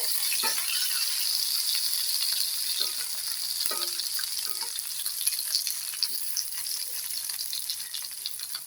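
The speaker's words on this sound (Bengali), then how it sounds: "একবার এগুলো তেলে দিয়ে একটু ভেজে নেবো" Lightly steamed potatoes fry in oil with a steady bright sizzle, broken by occasional soft clicks and rattles as the pieces are turned. Close and continuous, with no talking.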